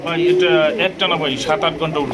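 A pair of Iranian high-flying pigeons coo close by in throaty, warbling calls, mixed with a voice speaking over them.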